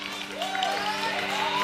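A large crowd of supporters cheers and applauds at the Pangrum Rookie Classic competition, a steady roar of voices with music and a voice running through it.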